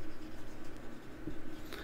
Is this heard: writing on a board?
yes